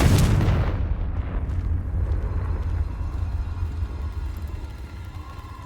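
A Confringo explosion spell goes off in the Hogwarts Legacy video game: one loud, close blast at the start that fades into a long, rumbling decay.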